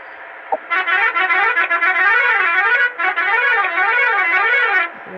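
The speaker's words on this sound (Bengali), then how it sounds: "এখানে হর্ন বাজিয়ে ফেলি।" A bus horn sounds in the Bus Simulator India video game, a sustained multi-tone musical blast lasting about four seconds with a wavering, warbling pitch. It plays alone, with no speech.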